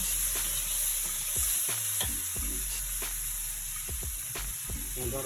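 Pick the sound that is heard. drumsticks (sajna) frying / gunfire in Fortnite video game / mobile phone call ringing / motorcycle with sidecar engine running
drumsticks (sajna) frying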